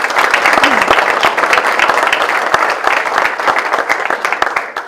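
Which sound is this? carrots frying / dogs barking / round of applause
round of applause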